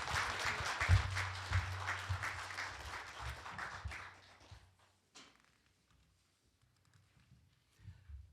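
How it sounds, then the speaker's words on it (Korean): Applause from the audience at a residents' public hearing on easing building height limits near Bukhansan, loud for about four seconds, then fading to near silence with faint shuffling. "큰 박수로 맞아 주십시오"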